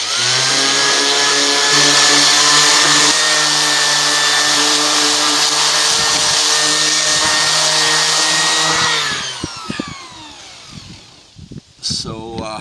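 A loud, steady power-sander whine on wooden end pieces runs continuously for about nine seconds, then cuts off and winds down, leaving scattered clunks and knocks.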